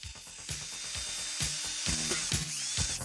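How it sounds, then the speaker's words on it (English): Handheld power drill being picked up and handled, producing rapid ratcheting clicks and mechanical clatter with a few sharper knocks, close and moderately loud. "This is the drill."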